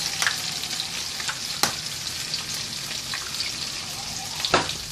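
Green peppers fry in a pan for a green pepper omelette, a steady close sizzle with a few sharper crackling pops and light clinks, no talking.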